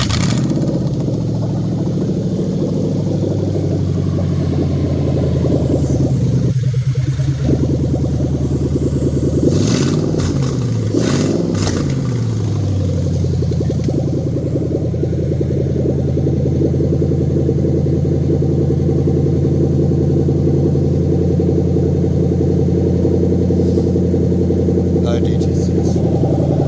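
A Toyota 3UZ-FE V8 on a standalone swap harness cranks, catches and settles into a loud, steady idle with a low throbbing drone close by, while someone talks over it.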